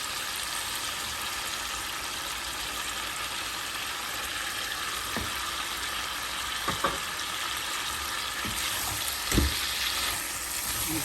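Chicken frying in a spice masala in a pan, with a steady, dense sizzling hiss running the whole time and a few sharp clinks of a utensil near the end.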